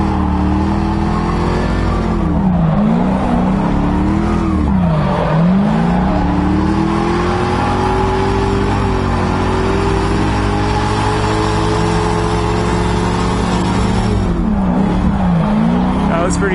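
A drift car's engine roars loudly at wide-open throttle during tandem drifting, its pitch swinging up and down with revs in a continuous close-up drone.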